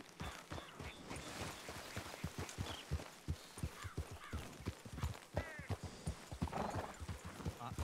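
Horse from a Western video game whinnying while its hooves clip-clop steadily at close range, with speech running over the sounds.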